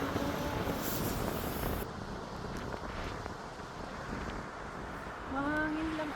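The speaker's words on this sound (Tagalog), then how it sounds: "Mahangin lang" Wind at a seaside lookout in Gerroa, New South Wales, buffets the microphone with a rough, rushing roar, strongest at the start and end, and faint voices are heard beneath it.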